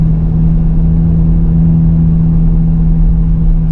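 A 2024 Nissan Z Nismo on a track gives a steady, droning exhaust note under acceleration, heard from inside the car as a constant loud rumble with no talking.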